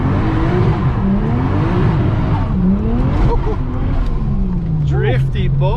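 Toyota Chaser with a 1JZ-GTE engine running E85 drifting, engine revving and rising and falling in pitch with tire squeal toward the end, while people talk over it.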